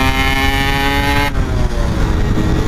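A Yamaha RX King two-stroke motorcycle engine racing hard on a public road, loud and close, with a strong buzzing harmonic drone that shifts sharply partway through as the rider changes gear and keeps revving.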